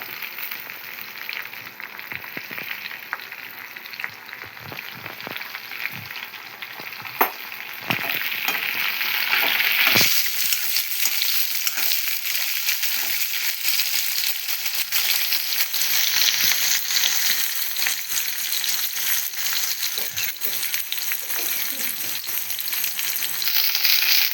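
Green chillies and drumsticks frying in a pan give a continuous close sizzle with scattered crackles, growing louder and denser partway through, with no talking.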